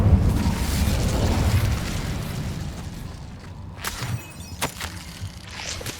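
Incendio fire spell cast in Hogwarts Legacy: a loud, rumbling whoosh of flame bursts up close and slowly fades, followed by a few sharp, crackling pops.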